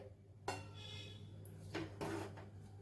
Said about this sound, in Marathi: कुकरमध्ये एक रिकामं कुकरचं भांडं ठेवलं मी